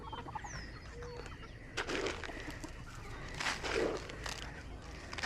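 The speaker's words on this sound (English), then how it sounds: "Got those birds fed." Chickens and other backyard fowl cluck and chirp around a yard at feeding time, with a few louder bursts of clucking and scattered bird calls over steady outdoor background noise.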